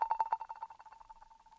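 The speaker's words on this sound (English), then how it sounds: "I also added this little roll" Quick drum roll in an R&B beat made in FL Studio: a rapid run of bright, tight hits that start loud and taper off fast, fading into a thin ringing tail, heard alone.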